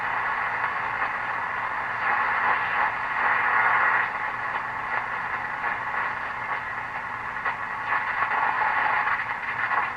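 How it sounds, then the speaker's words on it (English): A Silvertone Model 4464 shortwave radio tuned near the 160 meter ham band without a BFO, giving a steady hissing static band with a pulsing Morse code carrier tone swelling and fading, alone and moderately loud. "Lots of Morse code. Of course, this doesn't have a BFO, so all you're going to hear is the carrier."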